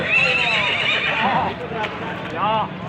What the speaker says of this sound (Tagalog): may kabayo pa ho. Kabayo ang kakarga.